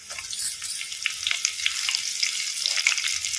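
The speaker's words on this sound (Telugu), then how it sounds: "ఆయిల్ ఉంది కదండి, ఇందులో మెంతం కూర వేస్తున్నాను" Fenugreek leaves and garlic sizzle steadily in hot oil in a pan, a bright crackling hiss with small pops, close and alone.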